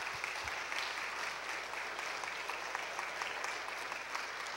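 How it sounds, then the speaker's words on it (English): A church congregation gives a round of applause to welcome new members during a service, a steady wash of many hands clapping heard from some distance and sustained for the whole stretch. "Could we welcome all of these new members into our body today with a round of applause?"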